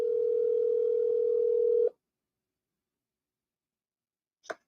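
A steady telephone dial tone hums loudly for about two seconds and then cuts off, followed by silence and one short electronic blip near the end.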